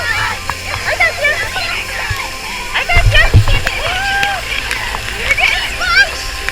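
Several kids swim and splash in a waterfall pool, with loud splashing and sloshing water over a steady rush of falling water; children and adults shout and talk throughout, with a burst of heavier splashing midway.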